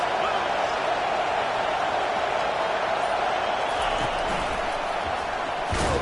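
Dense, steady stadium crowd roar at a college football game between Auburn and MSU, a broad continuous wash of many voices that holds loud throughout, with a brief swell near the end.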